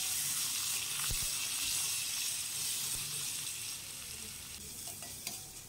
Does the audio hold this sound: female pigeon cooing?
no